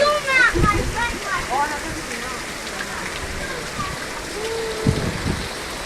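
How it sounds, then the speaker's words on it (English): Flash floodwater surges through a yard in 29 Palms like a river, a rough, constant rushing wash with splashes, partly masked by excited nearby voices talking over it. "Rushing through our yard. Like a river. It is a river."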